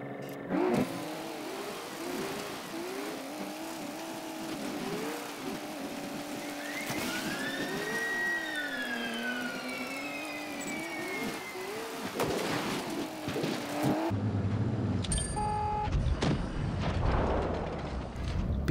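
A Pz V IV tank in a tank video game rumbles with a steady, shifting engine drone, revving up and down, with a heavy crunching impact and clatter near the end.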